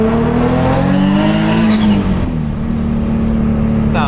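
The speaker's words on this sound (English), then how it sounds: "the whining sound when I'm hitting boost is not the turbo, and it's just a coupler" Nissan Z under boost with a damaged coupler, a loud, close engine drone with a rising whine layered over it as revs climb and then settle.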